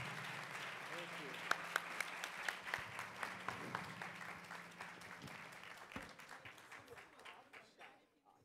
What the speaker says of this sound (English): let's give these wonderful ladies a round of applause